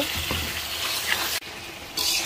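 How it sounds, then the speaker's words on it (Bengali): Koi fish sizzles and fries with coriander, chilli and turmeric spices in a pan, a steady dense crackle with stirring, briefly dropping out near the middle before resuming. "এখন মাছটা কষিয়ে নেব"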